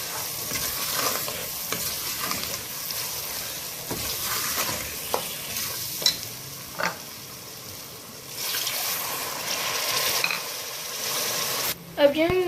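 Aloo baingan masala of potato, eggplant and tomato being stirred in a hot pan, a continuous frying sizzle with scraping strokes and occasional clinks of the spoon, loud and close throughout.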